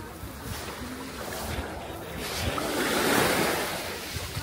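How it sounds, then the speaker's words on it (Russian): Sea waves washing onto a beach in France, a continuous rushing surf that swells and recedes, with gusts of wind buffeting the microphone and no voices. "Подошли к морю."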